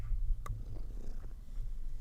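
A pet cat named Mr. Floof purrs close by in a steady low rumble that runs the whole time, with a brief rustle near the start.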